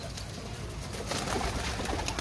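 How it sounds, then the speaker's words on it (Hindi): Rooftop pigeons give low, soft coos over a quiet hiss of background noise, growing slightly fuller in the second half. "ये कबूतर है।"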